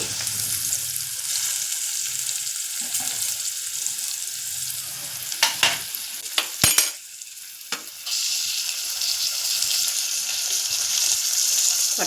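Cinnamon and cloves fry in a pan for chicken biryani in a small kitchen, a loud steady sizzle with a brief clatter and pause midway before the frying hiss resumes.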